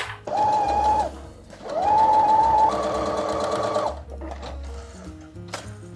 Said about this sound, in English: Let's stitch these babies.